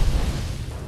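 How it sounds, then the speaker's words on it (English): A brief, loud explosion in Fallout 4, a dense booming rumble heavy in the low end that stays strong across the whole short burst. "Who doesn't love a good explosion?"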